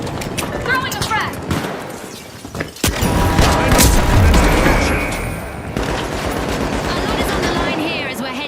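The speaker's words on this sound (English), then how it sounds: "Throwing a flashbang! Throwing a frag!" Flashbang and frag grenade blasts in a tactical shooter game, a burst of loud booms and crackling gunfire in a dense, chaotic mix.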